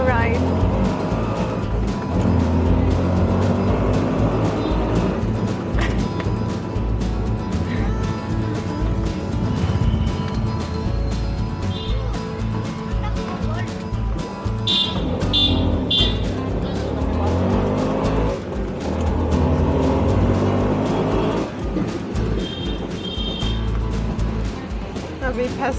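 An auto rickshaw drives through busy Indian traffic, its engine droning constantly up close while short horn toots from it and nearby vehicles break through now and then, with people talking throughout.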